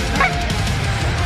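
Geese honk during a hunt over decoys, several calls clustered near the start over a steady outdoor wash of wind and background noise, the birds close and fairly loud.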